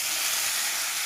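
Chicken and cut tomatoes sizzle in a pan of fried onions and chillies while meat khichuri is cooked, giving a brief, steady, even hiss that fills the moment with no voice over it.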